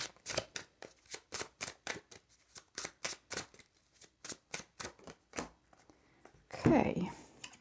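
Tarot cards shuffled in a quick, steady rhythm of crisp riffling flicks, close and fairly quiet, ending in a louder rustling burst as a card is drawn.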